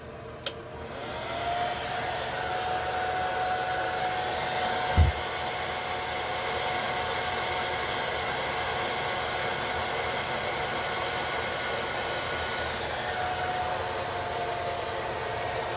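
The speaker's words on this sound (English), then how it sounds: "I'll just dab it here and blow dry it" Hair dryer blowing on a low setting while drying a lace wig, a steady close whooshing hum that runs throughout with a brief knock early on and no talking.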